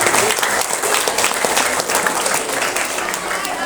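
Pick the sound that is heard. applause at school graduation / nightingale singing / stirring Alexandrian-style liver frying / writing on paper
applause at school graduation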